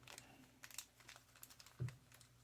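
Thin plastic parts bag from a Tamiya 1/35 A34 Comet British cruiser tank model kit crinkling up close, with quiet, irregular rustles and one firmer crunch near the end.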